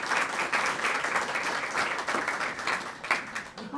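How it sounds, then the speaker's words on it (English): A room full of people at a community event applauds steadily, with dense, even clapping sustained throughout and a few louder individual claps standing out. "So let's give them a round of applause,"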